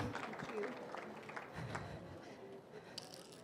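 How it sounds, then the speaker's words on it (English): A hall audience gives faint, steady applause for the culture show coordinators at a recognition event. The clapping continues throughout, distant and low under a speaking voice. "Let's give one more round of applause to Casey and Eleni for their great show"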